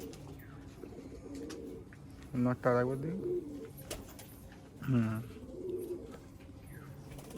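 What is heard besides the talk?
pigeons cooing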